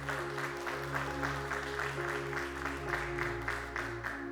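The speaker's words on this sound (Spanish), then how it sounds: "démosle un aplauso a los de multimedia" Church congregation applauding their multimedia team, steady clapping spread across the room over a constant low electronic hum, moderately distant.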